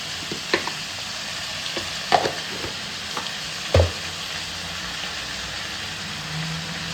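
Chicken frying in a pan with chili powder and salt, a steady soft sizzle broken by a few sharp clinks and scrapes of stirring, close up with no talking.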